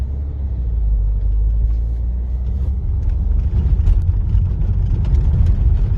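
A car's interior carries a steady low engine rumble and road drone while driving, with light rattles and bumps rising slightly toward the end.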